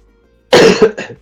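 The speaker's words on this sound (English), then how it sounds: "I've got a cold, so sorry if I cough." A single close, sharp cough from a person with a cold, followed by a smaller second cough after a short pause, in otherwise quiet surroundings.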